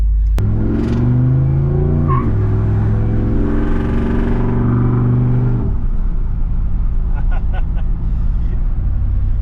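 A Chevrolet S10 hot rod pickup truck engine revs up loudly and steadily, then drops pitch sharply as it shifts gears, continuing to rumble under a lower, rougher idle.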